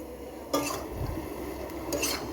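Chopped pointed gourd and potato tipped into a frying pan for a prawn stir-fry, giving a short clatter and rustle of vegetables hitting the pan and a faint scrape of stirring, with no voices.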